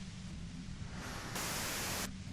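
Dense white-noise static from the video game Disco Elysium, a continuous hiss that swells brighter and louder partway through before easing back, with no voices.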